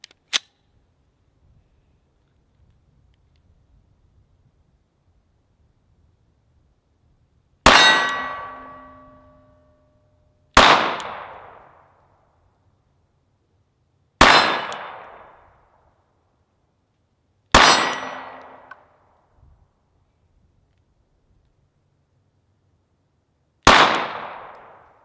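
Six sharp metallic clangs of gunshots striking steel targets at an outdoor shooting range, each ringing out and decaying over a second or two, spaced irregularly several seconds apart with quiet between, a new shooter firing.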